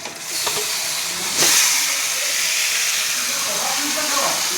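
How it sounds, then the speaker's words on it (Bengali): Raw chicken tipped into a hot pan of medium-fried onions sets off a steady, loud sizzle that hisses continuously, flaring briefly early on, with a faint voice underneath. "এবার আমি দেবো মাংসটা, ঢেলে দেবো ওর মধ্যে।"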